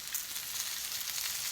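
Brussels sprouts sizzle in olive oil in a cast iron pan, a steady, close hiss of frying that runs without pause through the short moment.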